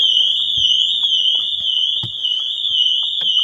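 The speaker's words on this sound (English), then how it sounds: "Now the Pandora alarm system's now going off because it cannot see the tag." A Pandora alarm on a Lamborghini Urus Performante sounds continuously as a loud, steady, high electronic tone, with faint clicks and movement underneath.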